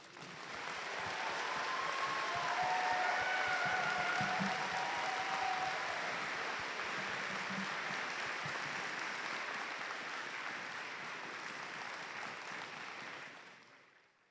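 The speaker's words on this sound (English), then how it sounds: "Let's thank them with a loud round of applause for all of their work on your behalf." Sustained applause from an audience at a FIRST robotics district event in Mishawaka, honoring volunteers; dense, steady clapping fills the hall for about thirteen seconds before tapering off, with a few faint tones over it.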